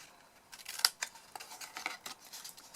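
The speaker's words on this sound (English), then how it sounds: "Let's cut all the way down the side, but then cut it there." Scissors cutting through card to make a box, a run of crisp close snips and slicing crunches at an uneven pace, one sharper cut standing out, with no talking.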